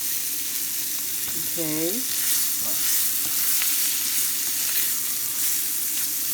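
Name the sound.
shallots frying in a pan with red potatoes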